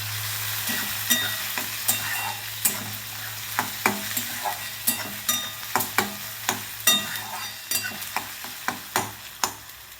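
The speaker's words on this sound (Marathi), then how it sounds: "टोमॅटो पण मऊ होईपर्यंत आपल्याला भाजून घ्यायचं व्यवस्थित." Onion and tomato frying in a pan, stirred with a spatula: a steady sizzle under sharp, regular scraping taps, close and clear, with no voices.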